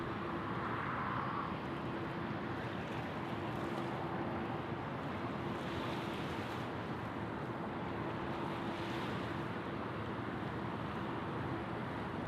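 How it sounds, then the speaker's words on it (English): A Qantas Airbus A330 airliner rolls toward a holding point at Sydney Airport, heard as a faint, steady, distant engine rumble and hum mixed with wind noise, constant throughout, with no speech. "We've got our Qantas A330 now."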